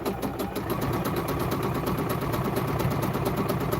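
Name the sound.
sewing machine stitching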